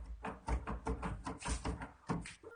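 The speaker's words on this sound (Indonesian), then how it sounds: "ada yang iseng lagi mainin tuh gagang pintu" A door handle is rattled and jiggled repeatedly in a series of quick metallic clicks and knocks, uneven in rhythm and fairly faint, with no talking.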